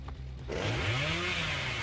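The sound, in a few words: Leatherface revving chainsaw in Dead by Daylight video game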